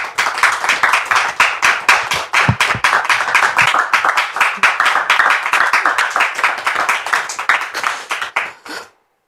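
A church studio audience claps in rhythmic unison to welcome an arriving guest, loud and close, keeping a steady beat for about nine seconds before stopping abruptly.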